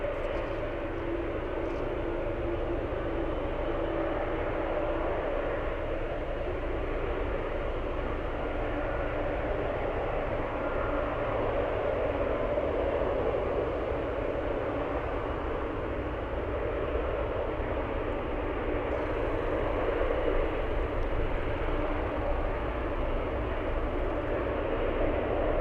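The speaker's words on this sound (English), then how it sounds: "I think we have another 747." A Boeing 747 airliner taxiing at an airport, a constant loud engine roar and whine that holds steady throughout with no talk.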